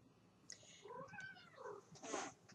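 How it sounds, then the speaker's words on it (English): A cat meows a few times at low volume, soft and somewhat distant, with a brief higher cry near the end. "I don't know if y'all heard that, but he's meowing again."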